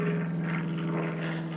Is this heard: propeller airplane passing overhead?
yes